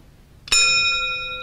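An antique drugstore bell from an old store rings once with a sharp strike, then its bright metallic tone rings on and slowly fades, close and clear.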